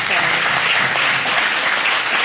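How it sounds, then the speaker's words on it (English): Steady audience applause for a panel of women guests on a talk show, dense and continuous throughout, with a faint voice underneath. "round of applause for the ladies that have been on the panel"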